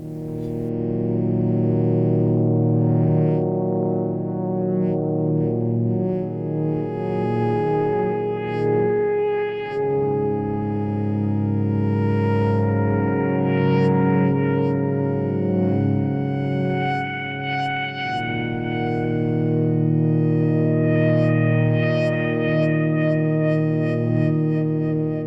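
Synthesizer patch with noise as the modulation source shifting the oscillator shapes, giving a thick, sustained, distorted chordal drone with shifting harmonics and echo, heard loud and steady on its own.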